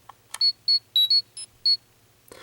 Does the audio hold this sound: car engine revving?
no